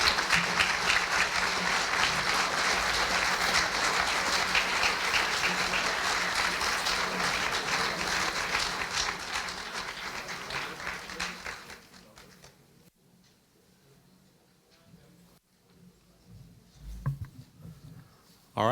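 A hall of fame audience in a school district athletic ceremony hall gives dense, sustained applause for the new inductees. The clapping stays loud for about eleven seconds, then fades to scattered claps and room murmur.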